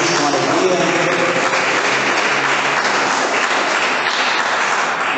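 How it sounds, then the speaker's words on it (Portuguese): A church congregation applauds in dense, sustained clapping that fills the room evenly and close by, continuing steadily without a break from start to finish. "desocupeis vossas mãos e dê uma salva de palmas para Jesus com alegria."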